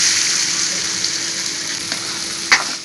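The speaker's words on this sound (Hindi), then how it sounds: "घी में अच्छे से इसको पका लेंगे।" Soaked sabudana fries in hot ghee in a kadai, giving a steady, close sizzle throughout, with a brief clink of stirring near the end.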